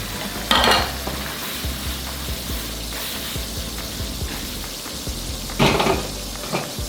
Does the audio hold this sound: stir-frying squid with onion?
yes